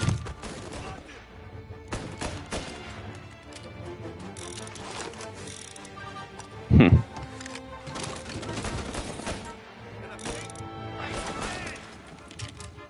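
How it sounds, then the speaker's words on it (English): Gunfire in the Mafia: Definitive Edition video game, a single burst of four loud shots standing out briefly over a steady bed of game music and ambient sound. "Gunshots heard."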